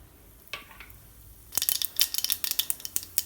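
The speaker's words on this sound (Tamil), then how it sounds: "கடுகு வெடிச்சிருச்சு" Mustard seeds pop and crackle in hot oil, a burst of rapid sharp snaps after a couple of isolated pops, close up.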